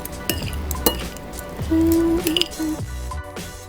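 Seasoned food for Cajun shrimp and sausage pasta is tossed in a pan, giving wet squishing, stirring and soft clinks of cookware with light sizzle. The sounds come in quick bursts close by, over a steady tonal background, with no talking.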